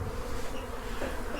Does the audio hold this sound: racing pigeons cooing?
no